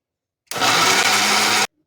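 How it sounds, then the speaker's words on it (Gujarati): A mixer grinder blending tomatoes whirs loudly and steadily for about a second, a dense, even roar that starts and stops abruptly. "તો હવે આપણે અહીંયા મિક્સર જારમાં પીસી લઈશું"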